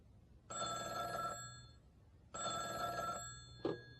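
A telephone rings twice with a classic electronic bell ring, each ring lasting about a second with a pause between, followed by a brief click as the call is picked up.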